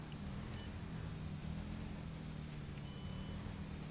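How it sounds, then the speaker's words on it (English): Inside a police car in the game LSPDFR, a short electronic beep sounds over a steady low engine drone. "So you're hearing the beeping in the background."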